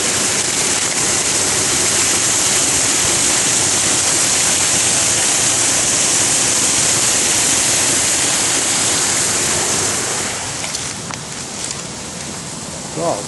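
A waterfall at a retreat roars as a loud, steady hiss of falling water, continuous and close, easing slightly toward the end.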